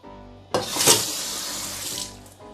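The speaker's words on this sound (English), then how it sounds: "Put it under cold water" Cold tap water gushes steadily from a faucet over a pork leg in a sink, starting abruptly and running loud and close for about two seconds before easing off, with no talking.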